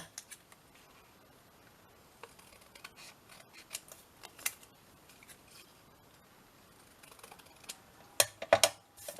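A few quick snips of scissors cutting paper near the end, crisp and close, after a long stretch of faint rustling and small handling clicks.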